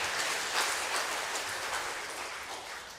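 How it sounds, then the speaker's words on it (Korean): A Korean church congregation applauding during a Sunday morning service, a soft, continuous patter of many hands that stays at an even level and tapers slightly toward the end, with no talking. "우리 동호를 위해서 박수 한번 쳐주시면 좋겠어요."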